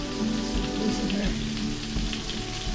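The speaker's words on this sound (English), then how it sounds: "I'm frying clams" Dense crackling sizzle of clams frying in hot oil, continuous and close, with a low hum underneath.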